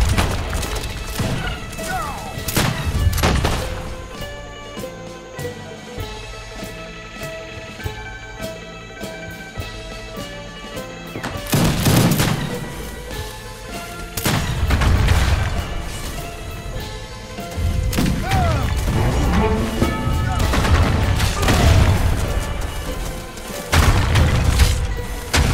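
Gunfire volleys and explosions crash repeatedly through an Age of Empires 3 multiplayer battle, Libertad and Danube Legion units pushing against Inca in a 3 vs 3 match, with loud booms and clattering hits dense throughout under shouting voices.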